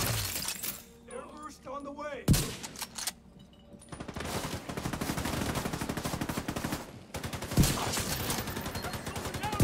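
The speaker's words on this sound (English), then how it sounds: "They're shooting at my decoy right now" Gunfire aimed at the player's decoy in The Division 2: bursts of automatic fire and sharp cracks with a glassy shattering, interrupted by brief lulls, while someone talks over the shooting.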